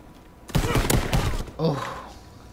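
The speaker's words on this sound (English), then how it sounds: "Oh, they're shooting." Multiplayer team deathmatch gunfire in Call of Duty: WWII, a dense burst of overlapping shots lasting about a second, then a shorter second volley, loud and close, with a voice speaking briefly afterward.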